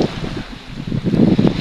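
Low, rumbling wind buffeting the microphone, swelling louder near the end, with a faint watery wash underneath.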